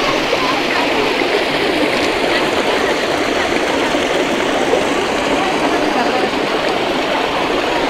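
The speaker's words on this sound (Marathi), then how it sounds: "आणि बाजूला ही नदी." A river flows beside the Gaumukh spring at Lamghati with a steady, loud, continuous rush of water and no break or change throughout.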